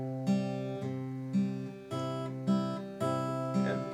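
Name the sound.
guitar playing a song chorus with pickup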